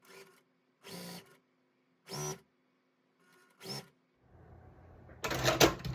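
A sewing machine stitches a J strip onto a quilt block in four short, evenly spaced bursts, then runs in one longer, louder burst at the end, with no talking.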